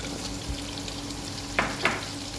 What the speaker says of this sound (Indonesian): Masukin wortel, aduk-aduk